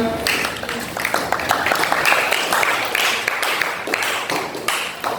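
Classroom group in an Indonesian teacher-training session applauding after a presentation, with dense, continuous clapping from many hands, close and fairly loud, and some voices mixed in.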